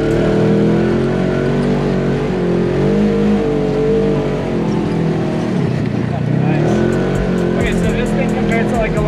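A Polaris Razor Pro off-road vehicle drives on the road in Serbia's Fruska Gora area, its engine a steady, loud low drone throughout, with a voice talking over the motor.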